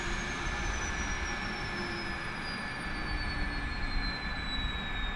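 The APU winds down on an MD-82 airliner in Microsoft Flight Simulator 2020: a steady, loud turbine whine with a high tone slowly falling in pitch over a constant roar, without talk.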